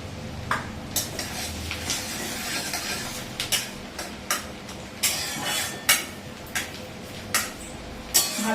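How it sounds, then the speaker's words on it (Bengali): Chopped garlic, five or six cloves, frying in oil in a pan while making egg 65, with steady background sizzle broken by sharp metal utensil clinks and scrapes against the pan at irregular intervals. "ভালো করে রসুনটা ভেজে নেব।"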